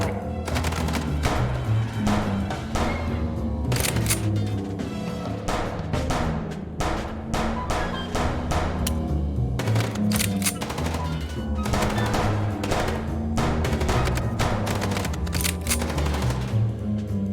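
Dense, sustained gunfire fills the Chicken Police video game scene: rapid automatic bursts and overlapping shots hammer on without pause, loud and close, with a steady layer of background action beneath.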